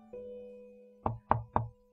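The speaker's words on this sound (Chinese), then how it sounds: "有敲门声响" Three sharp knocks rap on a door in quick, even succession, close and clear, following a faint steady tone in an otherwise quiet room.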